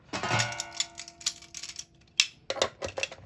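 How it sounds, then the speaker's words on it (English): Metallic clicks and scraping from a wrench working a stuck, overtightened axle nut on a 12-inch Kink Roaster BMX bike, a run of close ticks with a sharper snap partway through. "So you want to put the wrench on one side"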